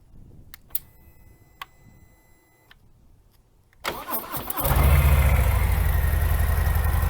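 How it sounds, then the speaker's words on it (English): Harley Davidson Heritage Classic motorcycle on stock pipes, a few ticks and clicks before the engine cranks and fires, then settles into a loud, close, deep rumbling idle. "Let me start the bike up and just give you a quick"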